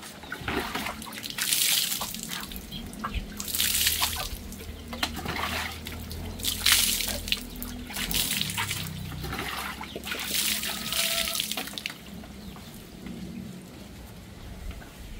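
Ginataan with taro bubbling as it simmers and boils in a pot, a steady close-up wash of popping and fizzing liquid with no talk over it.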